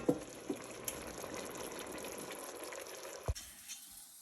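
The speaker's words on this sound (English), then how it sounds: "Now that the water for the rice is boiling, we can add the rice in" Pot of water boiling for basmati rice gives a soft, steady bubbling hiss with a few small clinks, quiet and close, then cuts off near the end.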